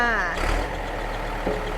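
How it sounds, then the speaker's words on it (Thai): A steady mechanical hum with a faint whine from the air-conditioning compressor of a running old Ford 7610 tractor, heard up close over the engine's drone. "นั่นคือเสียง คอมแอร์นิดนึง"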